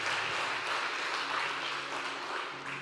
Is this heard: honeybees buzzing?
no